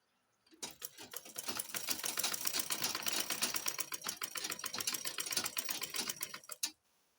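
A sewing machine stitches an abaya in one continuous burst of rapid, even mechanical ticking about six seconds long, starting and stopping cleanly in a quiet room.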